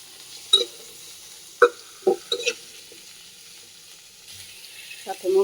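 Vegetables seasoned with a little salt and chili are sautéed in a pan. There is a faint sizzle, broken by a few sharp spatula clinks and taps against the pan at irregular intervals, close by.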